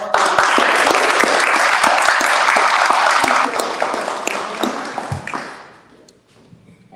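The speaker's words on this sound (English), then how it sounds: "So please give a round of applause to all of them." Applause from an audience at a noon pep rally for CT History Day teachers and alumni: loud, close clapping with sharp individual claps over a dense crowd wash, tapering off after about five seconds into near quiet.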